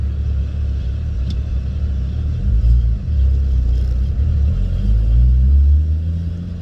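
A Lexus GS300 fitted with a 2JZ-GTE engine and R154 manual gearbox drives along, giving a loud, continuous low engine rumble with slight pitch shifts as it pulls, heard from inside the car.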